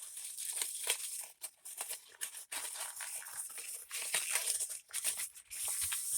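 Crumpled momigami paper being unwrapped and opened by hand, giving close, continuous crinkling and rustling with brief crackling bursts and short pauses, no talking.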